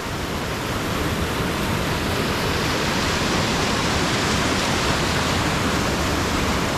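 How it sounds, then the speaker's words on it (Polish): A fast mountain stream rushes through the narrow, rock-walled Gveleti gorge in Georgia, a loud, steady broadband roar that fills the whole stretch without pause. "rzeka zdecydowanie przyspiesza, w zasadzie potok górski"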